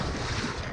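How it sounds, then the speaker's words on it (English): A strong storm wind gusts just outside New York City, a roaring, steady blast of wind buffeting the microphone at high level for under a second. "Just outside New York City, wind gusts reaching 65 miles per hour."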